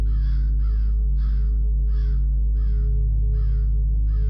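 Crows cawing in a pasture, a steady series of about seven loud harsh caws spaced evenly over a constant low hum.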